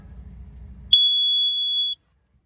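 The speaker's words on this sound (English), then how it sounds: "we hit the learn button in there and held it, heard the buzzer" A Mighty Mule MMK200 gate opener receiver buzzer, a single steady electronic buzz, loud and close, holds one high pitch for about a second after a low rumble, then cuts off to silence.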